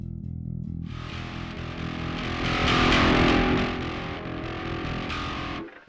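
A heavily distorted electric guitar is played through a Microtubes X Ultra pedal with the highs turned way up, giving a harsh, bright tone, with sizzling treble swelling louder midway and then cutting off abruptly.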